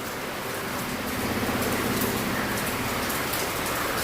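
Rain drips and patters steadily on a surface, a dense, continuous and fairly loud wash of drops.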